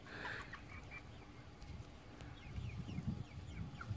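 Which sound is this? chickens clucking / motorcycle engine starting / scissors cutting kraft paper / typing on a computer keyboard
chickens clucking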